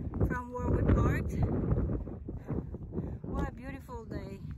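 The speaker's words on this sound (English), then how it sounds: "What a beautiful day, but a little windy." Wind gusts buffet the microphone on a mountain hike up North Anthony's Nose, a loud steady rumble that swells and eases while people talk over it.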